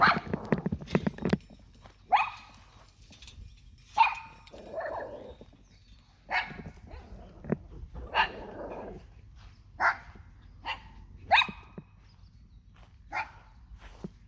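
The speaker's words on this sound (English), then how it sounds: "What you barking at?" A dog barks in short, sharp bursts spaced a couple of seconds apart, fairly close, in an otherwise quiet outdoor setting.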